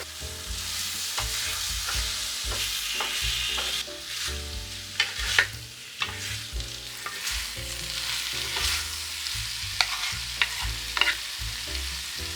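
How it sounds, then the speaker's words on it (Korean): Meat stir-fries in a pan for fried rice, sizzling continuously with repeated scraping and knocking of a spatula stirring throughout. "조금 볶다가 고기도 간이 배일 수 있도록 같이 볶아줍니다."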